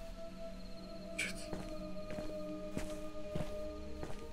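Heavy footsteps in the horror video game Eleusis thud in a slow, even rhythm, loud and close, with a steady low hum underneath.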